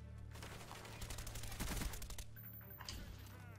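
Rapid automatic gunfire in the video game Call of Duty: Black Ops, a dense burst of loud, overlapping shots with chatter underneath.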